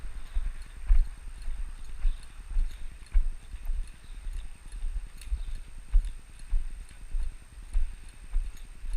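A horse trotting, its hooves striking the ground in a steady, even two-beat clip-clop that stays close and clear throughout, with no voices.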